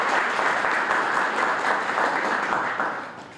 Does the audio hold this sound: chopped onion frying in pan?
no